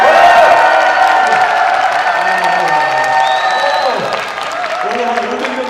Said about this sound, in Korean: 우리 서로에게 뜨거운 격려의 박수를 부탁드리겠습니다